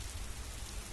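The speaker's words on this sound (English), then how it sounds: "Why the hell it's raining?" Rain falling in the horror video game Apparition, a steady, even hiss of downpour with no voices over the brief stretch.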